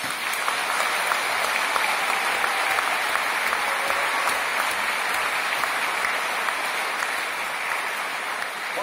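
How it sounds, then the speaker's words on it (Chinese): Sustained, loud, dense applause from a concert audience for choir members, an even roar of many hands clapping without pause for nearly nine seconds. "请各位把你们最热的掌声送给我们合唱团员"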